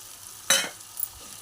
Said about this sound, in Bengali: এইভাবে নাড়িয়ে চাড়িয়ে নেওয়া একটু হালকা জল দিয়ে